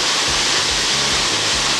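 A creek flows steadily in loud, close, continuous rushing hiss, a broad wash of water noise with a faint low rhythmic undertone running through it.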